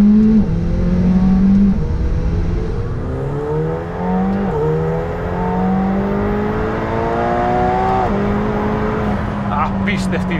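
McLaren 720S with a twin-turbo 4-litre V8 accelerating hard through several gear changes in the Swiss Alps, loud and close, engine note climbing and dropping with each shift, steady and unbroken.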